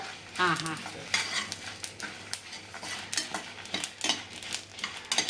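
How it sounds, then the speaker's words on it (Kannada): Crab masala fries and sizzles in a pan while a spoon stirs and scrapes against the metal, with irregular clinks and bursts of hissing throughout. The sound comes up close and at a steady, busy level. "ಈಗ ಸ್ವಲ್ಪ ಫ್ರೈ ಆಗ್ಬೇಕು"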